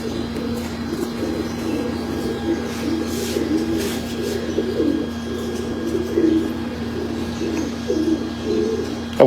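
Pigeons at a breeder's loft cooing in soft, repeated low throaty phrases, close and steady over a faint background hum.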